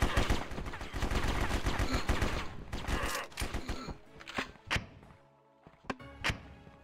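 Rapid gunfire and heavy grenade launcher thumps in Warbrokers on the Dead End City map, a dense burst of shots for several seconds followed by scattered single thuds and cracks, with little talk.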